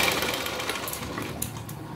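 A sewing machine runs a continuous line of stitches on a princess cut blouse, a steady rapid whirring rattle that holds at an even level, loud and near, with no voices.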